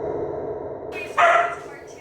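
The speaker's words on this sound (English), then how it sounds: "she's barking at something in there" A single short dog bark close by, rising out of a murmur of background voices.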